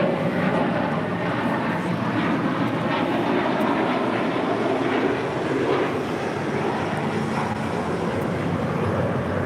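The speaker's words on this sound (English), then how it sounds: "We have a FedEx 757 taxiing over for departure." A FedEx Boeing 757 taxiing for departure at LAX gives a loud, continuous jet-engine roar and broad rumble, steady throughout with no talking.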